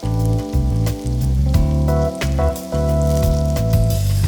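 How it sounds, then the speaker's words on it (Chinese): Whole peeled garlic cloves frying in butter, a close, dense sizzle and crackle with brief dips and spatters, under a steady tonal background hum with no one talking. "大蒜用黄油煸透煸香"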